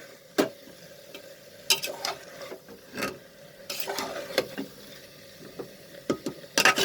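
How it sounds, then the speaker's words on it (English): A spoon stirs moong dal chicken as it sautés in a pan with soaked lentils and spices, giving irregular scraping clacks and soft sizzling bursts spread across several seconds, close and fairly quiet with no talking. "And now we will mix everything"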